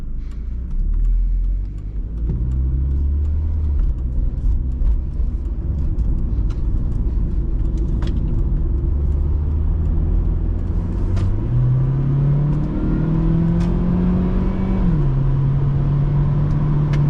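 A 2003 Volvo S40 1.9T car accelerates, heard from inside the cabin as a steady, moderately loud engine rumble whose pitch climbs, drops briefly at a gear change, then rises again. No one speaks.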